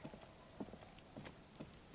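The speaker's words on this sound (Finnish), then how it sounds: "Täällä sade oikein niinku ylty." Rain in the video game Disco Elysium, a soft, faint steady patter with a few scattered heavier drops tapping close by, alone with no voices.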